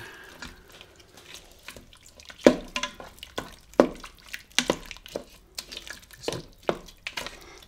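Ground spices for Taiwanese beef noodle soup are mixed in a pressure cooker pot, with a spoon scraping and tapping in irregular close knocks and wet stirring sounds, no voice over them.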